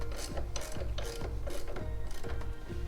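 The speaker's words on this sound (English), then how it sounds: "So now that we've loosened the axle," A wrench loosening the rear axle nut on a Honda Trail 125 (CT125) motorcycle gives rapid, rhythmic ratcheting clicks in repeated close-up bursts with no talking.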